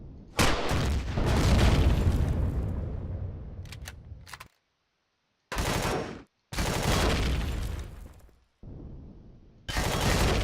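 A central turret in the video game Empyrion fires loud, dense bursts during a base assault, with sustained volleys broken by several short silent gaps and sharp restarts.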